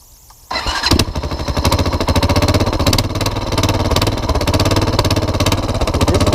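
An impounded Honda TRX400 4x4 ATV fires up after near silence and settles into a loud, rough, rapidly pulsing run close to the listener.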